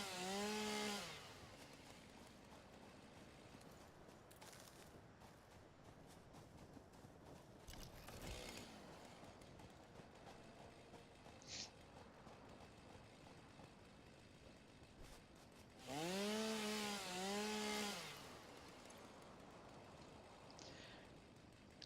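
Chainsaw running on wood with a steady drone, rising into two loud revving bursts near the start and again late on, with quieter idling stretches and no talk in between.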